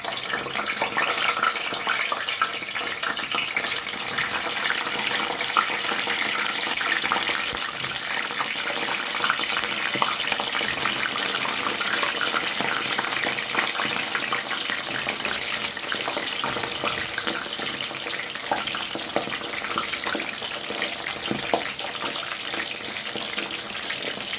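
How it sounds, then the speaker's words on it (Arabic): Eggplant slices frying in hot oil for moussaka, a steady dense sizzle and crackle that holds evenly throughout at close range with no talk over it. "هنا الزيت سخن، هبدا انزل بالباذنجان اصفيه من الميه كويس"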